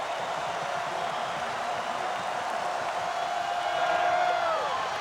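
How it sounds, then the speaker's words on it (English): Crowd at a 1993 Florida State vs Florida college football game in a stadium, a broad continuous roar of cheering that swells slightly toward the end, distant and washy. "The crowd is back in the game."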